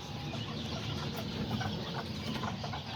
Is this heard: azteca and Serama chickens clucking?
yes